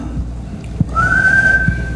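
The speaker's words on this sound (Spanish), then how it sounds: "Por ejemplo, este es un silbido humano." A person whistles one steady, nearly pure tone, close and clear, holding it for about a second over a low background rumble with a couple of soft thumps.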